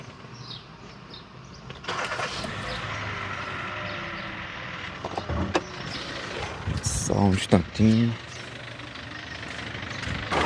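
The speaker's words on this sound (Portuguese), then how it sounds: "Meu carro tá fazendo uma zoada estranha." A car with a strange mechanical noise runs close by, its engine rumble joined by whirring and clunks, with a person speaking briefly over it.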